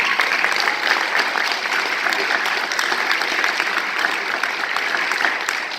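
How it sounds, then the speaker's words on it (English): A crowd applauds steadily for several seconds at a senior awards event, dense, even clapping filling a room without letup. "Let's give them a round of applause."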